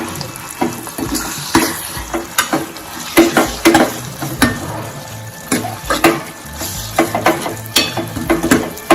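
Spoon scraping and stirring through roasted eggplant bharta with fresh green coriander in a pan on the stove, in uneven repeated strokes and clatters, close and fairly loud.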